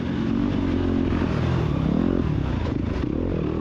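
Scrambler motorcycles racing in a championship round at Kingston. A loud, continuous engine roar stays close throughout, with the pitch shifting as the bike accelerates.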